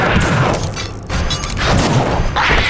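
Pistol gunshots in the horror video game The Suffering, a few loud bursts and impacts over a dense, noisy game soundtrack with no speech.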